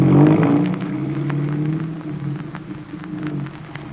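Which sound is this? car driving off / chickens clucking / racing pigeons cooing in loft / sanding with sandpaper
car driving off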